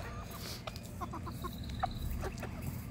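A rooster clucks in short, soft bursts close by over a rumbling outdoor background as it is thrown biscuits, with a few quick clucks scattered across the moment.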